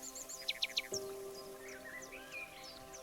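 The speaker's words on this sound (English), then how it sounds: "You hear the soft rustling of leaves, the distant call of birds" Birds chirp and tweet in short, bright calls, some in a quick repeated series, fairly faint against a quiet hum.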